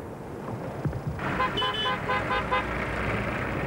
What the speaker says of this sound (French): 8 h du matin, réveil au klaxon.